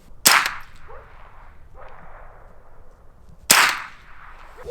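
A Smith & Wesson M&P 15-22 rifle fires two sharp, close shots about three seconds apart at an outdoor 100-yard range, each cracking loudly before a short decay.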